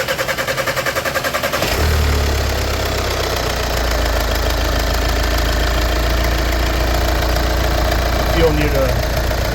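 A 2014 VW Passat TDI diesel engine cranks with a rapid chatter, catches after about two seconds and settles into a steady, loud, knocking diesel idle, with voices talking faintly over it.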